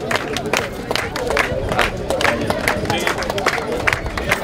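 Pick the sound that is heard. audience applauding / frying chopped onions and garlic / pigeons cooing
audience applauding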